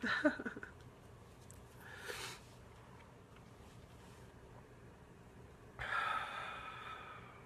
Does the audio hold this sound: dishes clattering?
no